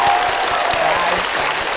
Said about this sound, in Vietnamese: Một tràng vỗ tay